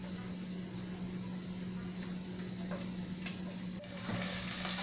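Steady sizzling of calabresa sausage frying in a pan, a constant crackling hiss with a low hum beneath, growing slightly louder near the end.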